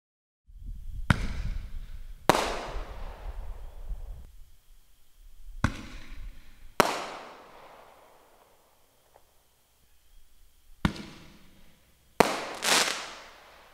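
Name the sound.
Black Cat Bag 12 Shot fireworks firing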